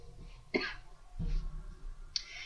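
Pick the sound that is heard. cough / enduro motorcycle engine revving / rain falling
cough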